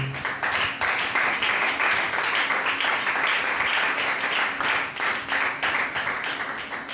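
A church congregation claps steadily in praise of the word of God, a dense, sustained round of applause filling the room for several seconds at close range, without speech.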